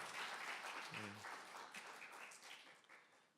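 A church congregation applauds at a Sunday sermon service, a broad wash of many clapping hands, faint and distant, with a brief voice or tone underneath, gradually tapering off.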